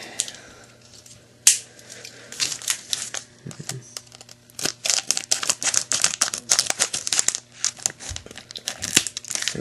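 Scissors cut into plastic Pokémon card sleeve packaging close by, with crinkling and tearing plastic, irregular snips and sharp crackles over nearly ten seconds, without any speech.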